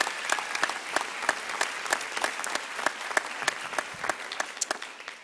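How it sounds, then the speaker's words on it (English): Graduates applaud at a George Mason University doctoral graduation ceremony, a dense sustained clapping from a large indoor crowd with sharp individual claps standing out, steady and fairly loud throughout. "Give yourselves a round of applause."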